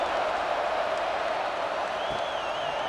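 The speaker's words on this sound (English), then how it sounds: "this crowd is buzzing after that last score" Dense stadium crowd buzzing at a college football game between Penn State and Nebraska just after a touchdown, a steady, loud wash of massed voices and chatter continuing without a break.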